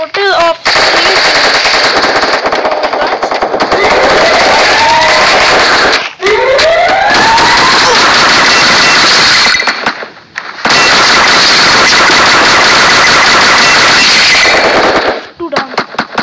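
Rapid machine-gun fire in a shooter video game rattles in long, loud sustained bursts broken by brief pauses, close and dominant throughout.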